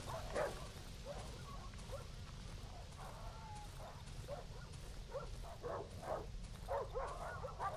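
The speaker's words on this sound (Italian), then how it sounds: "tantissimi cani." Many dogs bark in the video game Darkwood, a pack of distant, muffled barks and yips repeating in irregular bursts over a steady low background rumble.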